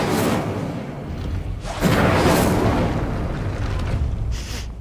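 The Incendio fire spell cast in Hogwarts Legacy: a loud, steady whooshing roar of flame that swells midway with a deep booming burst and keeps rushing to the end.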